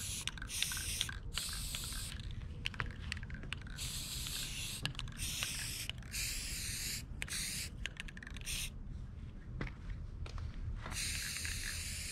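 An aerosol spray can coats an aluminum foil stuffed golden calf toy in repeated bursts of close hiss, separated by short pauses, with no one talking.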